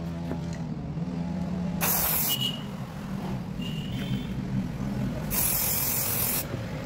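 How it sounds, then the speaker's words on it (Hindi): A spray paint can hisses in two loud, bright bursts, each lasting about a second, over steady background noise with no talking. "स्प्रे करने में थोड़ी दिक्कत भी हो रही थी"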